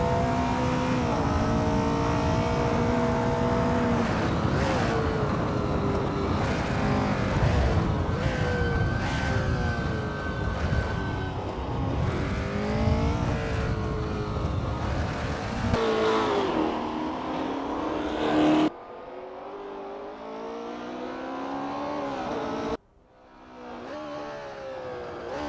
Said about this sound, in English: Wayne P is getting to grips with the Porsche 908 LH in this practice session.